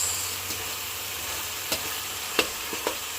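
Chicken and chayote sauté frying in a pan while being stirred, a steady soft sizzle with a few brief scraping knocks from the utensil.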